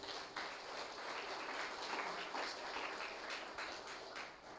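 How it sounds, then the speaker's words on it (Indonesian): Crowd applause at a graduation ceremony for students of an Islamic boarding school foundation, steady dense clapping held for several seconds with no voices over it. "Aplaus untuk kalian yang memilih dua hal ini."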